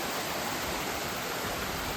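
Rainwater from the plateau rushes down a monsoon stream as a dense, constant, close roar of flowing water. No other sounds cut through it.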